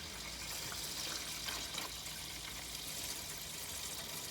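Salty water draining out of the radiator of a 1984 Chevy Blazer, a steady trickling, splashing flow that runs continuously and fairly quietly from start to finish, with no talk over it.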